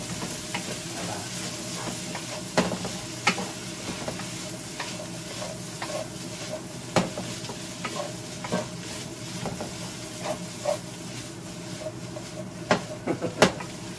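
Kimchi fried rice with sesame seeds is stir-fried in a wok: a continuous sizzle runs underneath while a spatula scrapes and clanks against the metal in irregular bursts, close and fairly loud with no talking.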